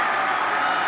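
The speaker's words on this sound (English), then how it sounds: "Yeah, you can hear the crowd." Crowd roar at a Turkey Bowl high school football game right after a Dons touchdown, a dense, steady wash of cheering with no breaks across the whole moment.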